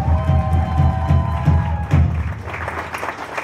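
Applause and cheering from a pub concert audience for the guitarist, many hands clapping over a thumping bass pulse and a sustained guitar tone that fades, the crowd noise growing denser and louder toward the end.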